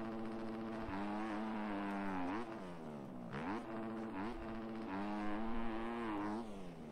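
Yamaha 250 dirt bike engine while riding, rising and falling revs with harmonic whine across several throttle blips, fairly faint and steady, no speech.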